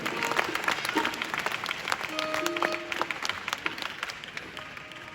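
An audience at a Gujarati lok dayro folk concert in America breaks into sustained, dense clapping, loud and steady throughout, with faint music or voices tucked underneath.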